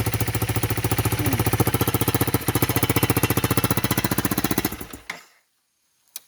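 A Honda CRF 300 L motorcycle engine with a new Yoshimura exhaust idles with a rapid, steady, throbbing exhaust pulse close by, then cuts off abruptly, followed by a couple of faint knocks.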